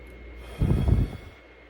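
A person takes one deep breath in, a breathy rush of air lasting about half a second, close and clear against a quiet background.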